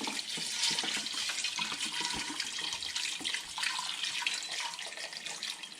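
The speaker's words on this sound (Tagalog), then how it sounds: "lagyan natin ng tubig." Water pours steadily into a pressure cooker holding mung beans for ginisang munggo, a continuous splashing rush that stays close and fairly loud throughout with no talking.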